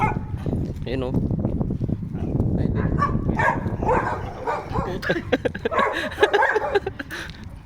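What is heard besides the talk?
dogs barking at houses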